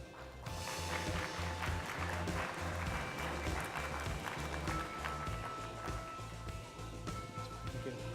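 Audience applause at a talk on generic drug access as speaker Marc Boutin takes the stage, a steady round of many hands clapping in a hall, starting abruptly and continuing for several seconds.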